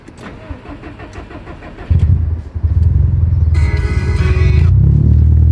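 A Mitsubishi Evo 8 engine starts with a sudden loud rumble and then idles and revs steadily, deep and close, with a brief higher whine partway through.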